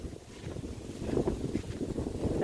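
Wind blowing outdoors on an open lot in fine, breezy weather, a steady low rumbling gust noise buffeting the microphone for a couple of seconds, rising slightly and staying fairly constant with no voices.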